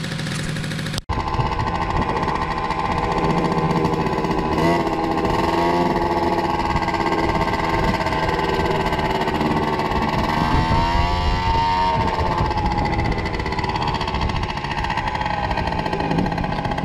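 An MRF 170 motorbike engine runs steadily and loudly up close, a continuous buzzing drone with slight pitch rises, a variator that sounds off and likely worn rollers.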